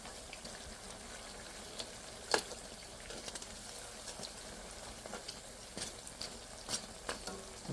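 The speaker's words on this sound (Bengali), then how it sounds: "আস্তে আস্তে ভাজা হয়ে যাবে" Black gram dal jalebi sweetened with date jaggery fries in hot oil, making a faint, steady sizzling hiss broken by occasional soft pops and stirring clicks.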